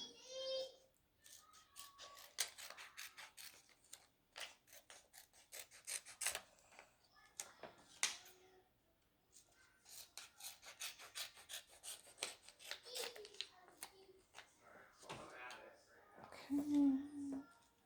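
Heat transfer vinyl being trimmed for a shirt, giving soft repeated rubbing and rasping cuts at close range that come in bursts, with occasional speech between them.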